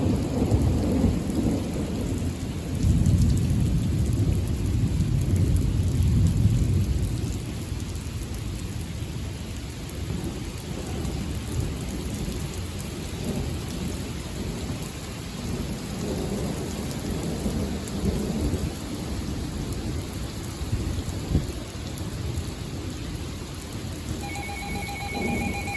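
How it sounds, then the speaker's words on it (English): A thunderstorm with steady heavy rain and deep rolling thunder, loudest early on and then rumbling on under the constant rain, with a faint beeping tone near the end and no speech. "Thunderstorm warning."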